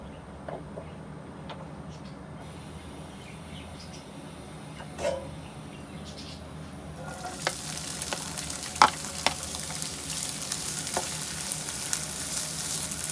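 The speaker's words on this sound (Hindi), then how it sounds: "प्याज को 1 मिनट तक हम हल्का सा फ्राई करेंगे बस।" Onions frying lightly in a little oil, a soft sizzle that grows into a brighter, steady crackle, with occasional stirring clicks and taps.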